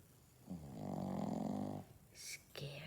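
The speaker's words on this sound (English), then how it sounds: "That's how my son snores." A boy snoring: one long, loud, drawn-out rasping snore, followed by a couple of shorter, higher breathy snorts, close up in a quiet room.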